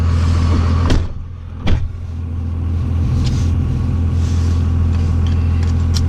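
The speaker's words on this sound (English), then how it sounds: "Cummins 2500 24 valve turbo diesel." A Cummins 2500 24-valve turbo diesel truck with an 8-inch lift idles with a low, steady, loud rumble close by, broken by a couple of sharp clunks early on before the drone settles back in.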